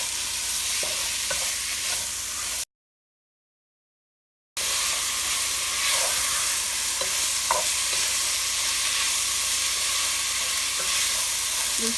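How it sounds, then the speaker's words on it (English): A spoon stirs a pot of Cambodian krerng soup mixture over the heat, scraping and sloshing in an ongoing rhythm against a soft sizzle, with one silent gap early on. "we stir it about 1 minute"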